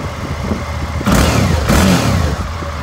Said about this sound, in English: She fires right up. Let's listen to that engine.